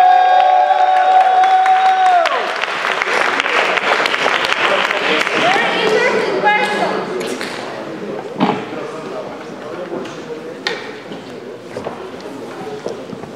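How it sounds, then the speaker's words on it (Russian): An audience at a vegan-day DIY festival bursts into loud applause for a guest speaker, with scattered claps and thumps that fade toward the end. "Аплодисменты Питеру!"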